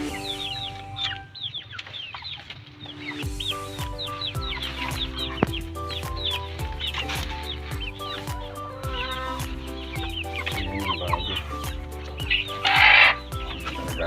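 Hens cluck and cackle near a nest while laying eggs, with repeated rhythmic clucks and a louder squawk near the end, over a busy background of other farm birds.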